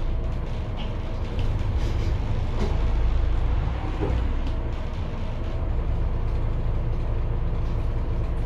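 A MAN A20 city bus engine drones steadily on a test drive, a constant deep low-frequency rumble with road and cabin noise heard from inside, no pauses.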